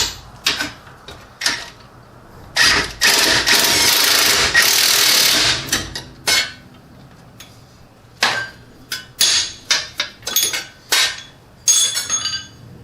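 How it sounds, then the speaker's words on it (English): A ratchet wrench runs down the last bolt on the front suspension of a Lexus ES300 being rebuilt with Tein springs: bursts of rapid clicking and rasping, one long stretch then many short strokes, close and loud, no talking. "actually tying the last bolt here"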